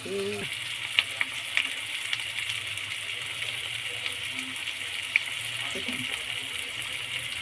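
Duck egg curry with potatoes sautéing in a pan gives a steady close sizzle and frying hiss throughout, with a few brief clinks of the spoon against the pan.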